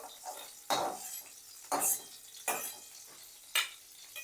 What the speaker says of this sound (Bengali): এই তেলেতেই এবার আলুটা আমি ভাজবো